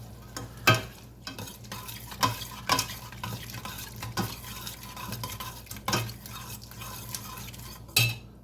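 Garlic sizzles in a pot for minestrone soup while a utensil stirs and knocks against the metal. Soft frying hiss runs throughout, broken by several sharp scrapes and taps.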